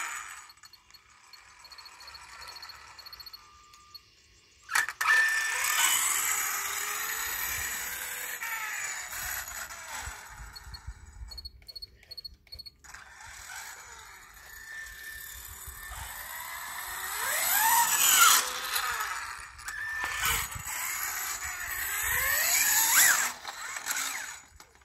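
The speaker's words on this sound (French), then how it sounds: "elle fait quand même pas mal de bruit parce que dessus je t'ai mis toute la pignonnerie métal." Electric RC race car with all-metal gearing and a Castle 800kv motor on 8S power, running with a loud whining, buzzing drone that swells and fades as it passes near and away, with no talk over it.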